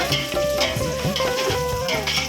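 Mutton curry cooks in a pot while being stirred, with a continuous close sizzle and bubbling, and rhythmic scraping strokes of the spoon.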